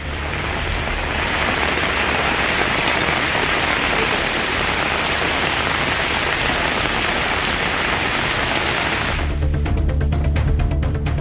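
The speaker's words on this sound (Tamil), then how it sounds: "வேலூர் மாவட்டத்தில் இடி மின்னலுடன் கனமழை வெளுத்து வாங்கியது" Heavy nighttime downpour in Vellore district, a dense, steady roar of rain hammering surfaces, loud and unbroken, shifting near the end to closer, sharper drips and splashes.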